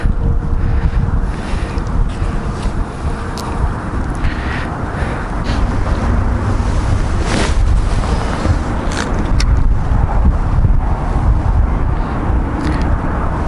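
Strong crosswind gusts buffet the microphone in a constant roar during winter fishing near Kyiv, swelling and easing over time, with faint water sounds underneath.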